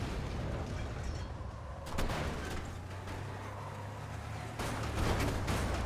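Video game gunfire and explosive booms rumble continuously, dense and heavy, with sharper bursts of shots at about two seconds and again near the end.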